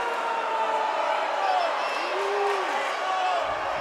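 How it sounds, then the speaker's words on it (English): A basketball crowd at a Pittsburg at Parsons game roars and jeers a player after a technical foul, a dense, sustained wall of voices with whoops rising above it. "And he is hearing it from the crowd."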